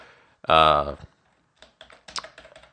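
Code being typed on a computer keyboard, with scattered light key clicks in an irregular rhythm after a short spoken voice, close and moderately quiet.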